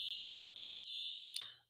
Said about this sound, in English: our fire alarm's going off